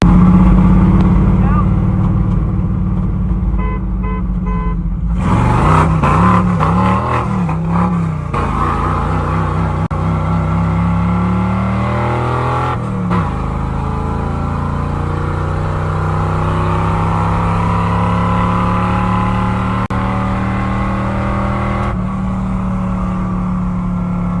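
A stock big block Chevy V8 truck of about 4,600 pounds roars and revs hard, pitch climbing through gear shifts, with road noise and the drone of a BMW 330Ci racing close by.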